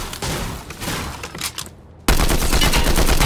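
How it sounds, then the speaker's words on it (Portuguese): Rapid automatic fire from a new combat assault rifle in Fortnite, a dense continuous stream of shots that briefly cuts out, then resumes louder and unbroken to the end, with no talk. "Ela atira, tipo, tão rápido quanto uma sub, parece."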